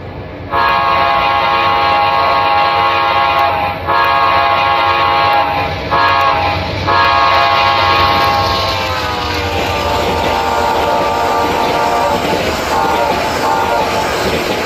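Amtrak GE P40DC locomotive no. 804, built in 1993, passes near Berwyn on the Chicago–Los Angeles route, its horn sounding loud, steady and harmonic over the rumble of the passing train for nearly the whole stretch.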